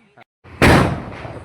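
A single loud Diwali firecracker bursts in a Gujarati village, a sharp close bang after a couple of faint brief sounds, trailing off in a rumbling decay.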